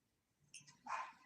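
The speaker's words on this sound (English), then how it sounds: "my dog started barking" A pet dog barks indoors, a few faint, muffled barks coming from some distance away.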